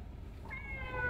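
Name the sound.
cat meowing in Demon Slayer Hinokami Chronicles video game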